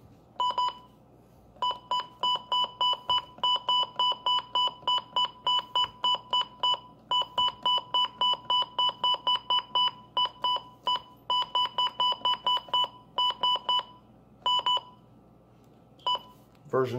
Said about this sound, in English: the version 1 and the 2 button beeps sound different, because I guess they had some older firmware.